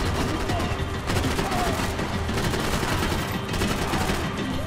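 Sustained gunfire from the shooter video game Max Payne 3, a dense, continuous burst of shots and impacts filling the whole stretch at a steady loud level, with a voice faintly mixed in.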